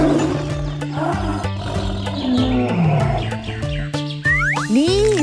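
Roaring growl of a toy tiger from a set of wild animal toys, a synthetic, electronic-sounding roar with rising and falling tones, loud and close, with no talking over it.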